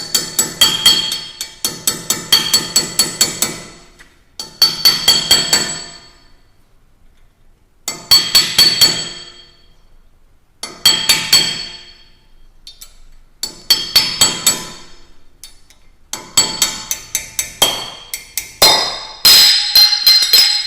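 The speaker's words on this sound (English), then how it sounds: "with a small chisel or screwdriver, we're going to remove the CV nut dust cap" A small chisel hammered against the CV nut dust cap on a Toyota Tacoma wheel hub gives bursts of rapid, ringing metallic taps, each run lasting a second or two and separated by short pauses.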